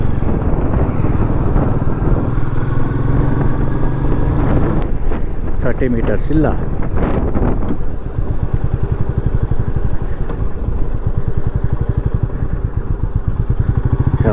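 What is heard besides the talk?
motorcycle riding on a village road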